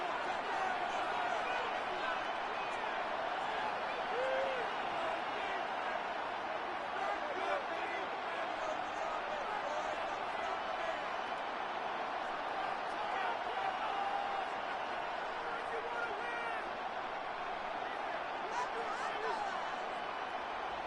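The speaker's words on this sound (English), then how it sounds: "This crowd, they're trying to force a false start." Dense, steady stadium crowd roar in a Madden football video game, loud and continuous throughout with no clear breaks, as fans try to force a false start.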